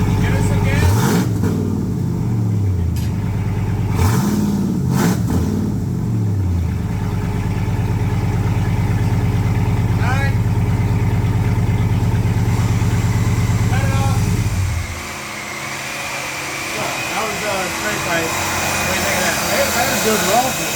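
A Ram Power Wagon V8 with straight pipe exhaust idles with a deep steady rumble and is revved in short bursts early on, then settles before fading off; people talk over it nearby.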